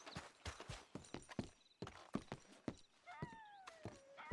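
Horse hooves clip-clop in an uneven trotting rhythm in Red Dead Redemption 2, and a horse whinnies partway through, with no talking.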